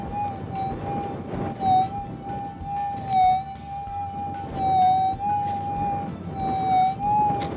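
A Minelab metal detector on its ultra deep setting gives a steady electronic tone that wavers and swells in repeated pulses as the coil sweeps, fairly close over low background rumble, with no speech.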